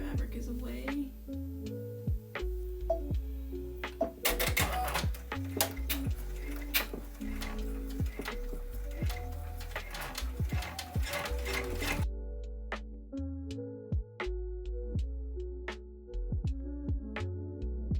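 A home embroidery machine stitches satin stitches onto a sweatshirt, a close, steady run of quick mechanical needle ticks and whirring with short pauses, loudest through the middle stretch before easing to lighter, evenly spaced clicks.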